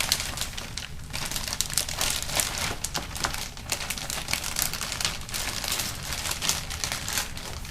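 A large 2.5-gallon plastic zip-top bag crinkles and rustles continuously as it is handled while ribs are packed into it, close and fairly loud with crisp, irregular crackles.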